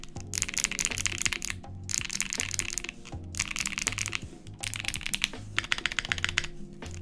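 Typing on a Neo70 mechanical keyboard with a rattly space bar: rapid bursts of close clacky keystrokes separated by short pauses, with a deeper thock from the space bar recurring through the bursts. No one speaks.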